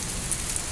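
Steady rain falls outdoors in a yard with a mango tree during windy weather, a dense, even patter filling the scene close by with no voices.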